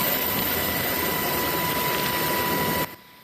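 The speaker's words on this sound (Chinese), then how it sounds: "空勤直升机飞来到灾区的空中" A rescue helicopter flies over an earthquake disaster zone, its engine and rotors droning loud and steady before cutting off abruptly near the end; no one speaks.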